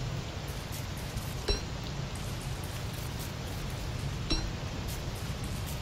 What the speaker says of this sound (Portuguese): Ai, que beleza. Chuva.